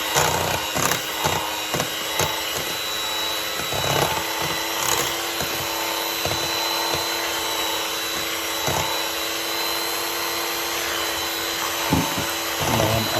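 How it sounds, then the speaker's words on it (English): Electric mixer at its lowest speed churning sweet potato pie filling, a steady whirring motor hum with irregular knocks and clatters from the bowl. "I have my mixer on a slow mix,"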